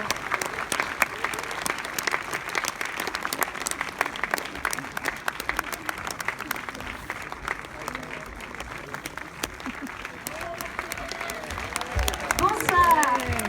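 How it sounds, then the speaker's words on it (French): Sustained applause from a theatre audience at a stand-up comedy show, dense steady clapping filling the room for over ten seconds, with some voices rising near the end. "Merci de les applaudir."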